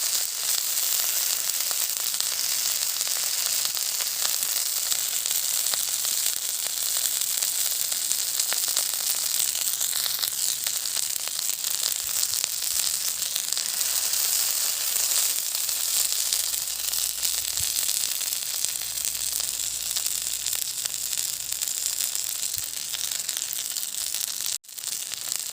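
Fish fries in sesame oil over a primitive outdoor cooking setup, giving a steady, dense sizzle that stays even and continuous throughout, with no voices.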